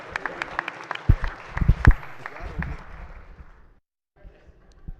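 Scattered clapping in a state Senate chamber, a few sharp claps swelling into a short round of applause that thins and fades, followed by quiet room tone and a voice.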